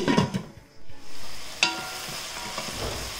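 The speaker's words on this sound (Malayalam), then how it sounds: "ഞാനിവിടെ ഹൈ ഫ്ലെയിമിൽ വെച്ചിട്ടാണ് ഇത് വഴറ്റി കൊടുക്കുന്നത്." Tomatoes sautéing in a pan over a high flame, a steady close sizzle with a few soft scraping stirs and a brief clink partway through.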